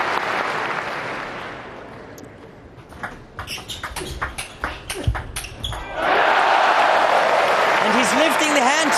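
A German crowd roars and applauds for Timo Boll after a point in his table tennis match against Simon Gauzy at the 2017 German Open, with a loud sustained cheer swelling after the quick taps of ball play and a commentator talking.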